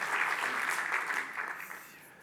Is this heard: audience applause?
yes